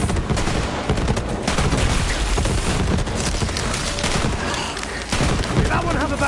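Rapid bursts of gunfire from the Brawl Stars video game, dense overlapping shots crackling loudly and continuously over a busy game soundscape.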